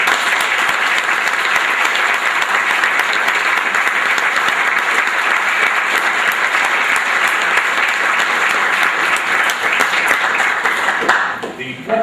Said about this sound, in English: And I think Norm deserves a big round of applause.